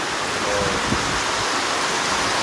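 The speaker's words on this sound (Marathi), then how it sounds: "काय हा पाऊस" Heavy rain pours down in a dense, steady roar that stays loud and unbroken throughout, with no voices.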